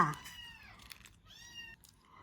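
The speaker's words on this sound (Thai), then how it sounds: "โอ้ทั้งเสียงแมวเสียงเด็กเลยทีเนี้ยแข่งกันร้อง" A cat gives two drawn-out, wavering meows close by, moderately loud against a quiet indoor background.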